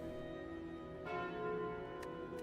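A bell relic is picked up in Slay the Spire, a resonant church-style bell tone ringing out over a sustained musical drone, with a couple of brighter strikes a second apart.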